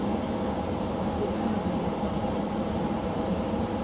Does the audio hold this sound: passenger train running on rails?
yes